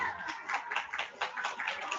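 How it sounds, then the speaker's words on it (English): Children and adults at a kindergarten awards assembly clap, a fairly quiet, uneven patter of hands with soft chuckles mixed in. "let's give those guys a round of applause"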